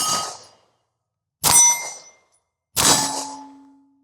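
Rounds from a Smith & Wesson M&P Shield pistol strike a very distant steel target, giving three separate metallic clangs about a second and a half apart, each ringing out and fading into silence.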